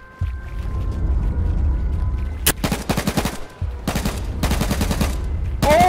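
Sniper and automatic gunfire in the H1Z1 video game on PS4, loud bursts of rapid shots in clusters with brief gaps, close and sharp.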